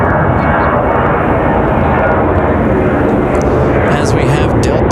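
An ATR turboprop airliner passes close at Raleigh-Durham airport as a loud, sustained broadband propeller and engine roar, with a voice talking over it.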